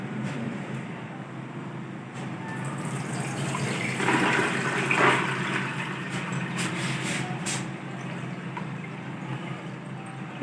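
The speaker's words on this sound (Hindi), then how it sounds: "इस तरह छन्नी की मदद से मैंने पानी निकाल लिया दाल में से।" Water from 500 grams of chana dal, soaked three hours, pours through a strainer, a steady close splashing gush that swells in the middle and then settles, with no talking.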